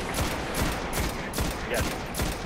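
A scout rifle in the Destiny video game fired in quick succession, about six evenly spaced shots in a brisk rhythm over a dense backdrop of in-game noise.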